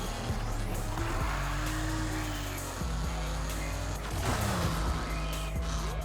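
Volvo 242 DL built for off-road racing in Need for Speed Heat, its engine droning loud and close, pitch rising and dropping through gear changes, with tire scrabbling and impacts mixed in.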